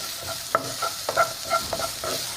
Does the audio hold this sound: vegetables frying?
yes